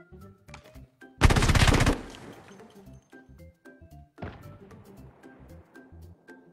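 Video game gunfire bursts in a loud, dense rattle lasting under a second, followed by scattered clicks, thumps and a second softer burst amid game sounds.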